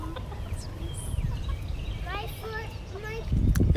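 Hens cluck in short bursts against a noisy outdoor background, with people talking underneath and some rustling near the end.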